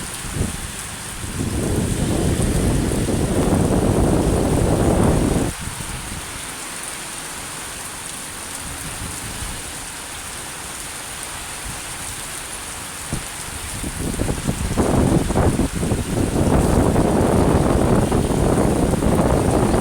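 Heavy rain pours during a storm in Aceh, with loud rumbling thunder and gusting wind that swell, ease off for several seconds, then surge again.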